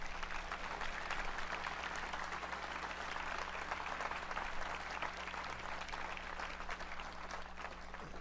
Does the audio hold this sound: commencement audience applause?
yes